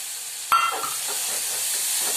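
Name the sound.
broad beans added to hot oil sizzling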